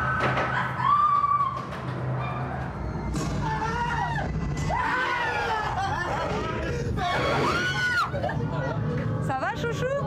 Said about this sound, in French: Le tout amplifié par les hurlements des autres visiteurs.